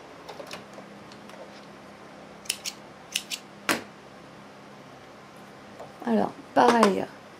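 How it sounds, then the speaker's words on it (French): Scissors snipping excess fabric from a sewn triangle piece, a few short crisp cuts near the end, close, after scattered quiet clicks and handling. "je vais couper le surplus"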